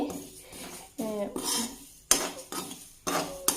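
Green chillies stirred in a wok for pickle, the spatula scraping and clinking against the metal in several separate strokes, each a short burst of sizzle and clatter close by, with no talking.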